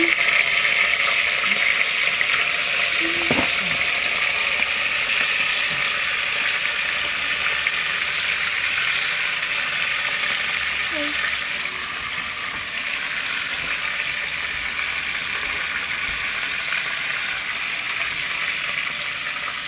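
Ingredients for sisig sauté in a hot pan, giving a steady, close sizzling hiss that runs without a break for about twenty seconds, with a brief clatter near the start and no talk over it.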